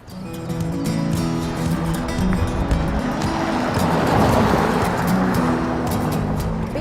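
A BMW 730d M Sport engine hums steadily at close range while driving, with road and tyre noise rising slightly partway through; no one speaks.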